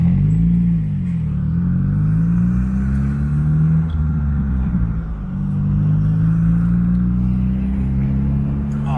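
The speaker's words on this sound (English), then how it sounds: "I love the roar. Can you hear the roar, folks, of the exhaust?" A Morgan Plus 4 sports car, a limited 70th Anniversary edition, roars steadily from its exhaust while driving, a loud continuous low engine rumble with slight rises and dips in pitch throughout.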